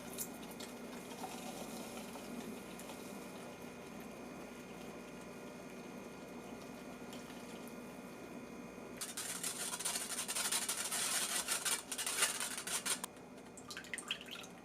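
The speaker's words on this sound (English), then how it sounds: "I like to strain this mixture so the custard will be smoother." Custard mixture of egg trickles through a fine mesh strainer in a soft, quiet liquid patter that swells into a fuller, splashier pour toward the end, then tapers off.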